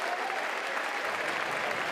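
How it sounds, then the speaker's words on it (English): A college baseball crowd applauding at an NCAA game between North Carolina and USC, a steady, even wash of clapping heard from a distance without any voices. "nice round of applause from Morris"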